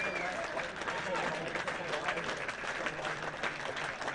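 Big crowd at a T20 cricket cup final applauding a batsman's fifty, sustained dense clapping throughout with a commentator's voice over it.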